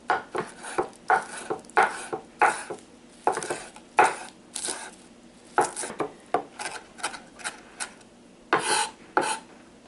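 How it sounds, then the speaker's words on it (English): A knife chops finely through cilantro on a cutting board for guacamole in a rapid, irregular series of sharp close-up taps with short pauses between bursts. No one speaks. "It's calling for finely chopped cilantro."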